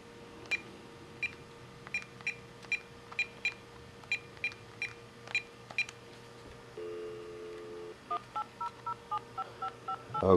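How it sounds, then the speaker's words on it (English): Series of DTMF touch-tone beeps from a Magic Jack internet phone adapter as a number is dialed, about a dozen short evenly spaced tones in two bursts over a faint steady hum, ending with a louder click. "Just going to dial."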